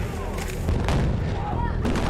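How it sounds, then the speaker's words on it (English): Explosions set off on the set of Transformers: Revenge of the Fallen, heard as loud, continuous booming rumble with sharp blasts, dense low-end roar filling the whole stretch, with faint voices in the background. "They really blow it up."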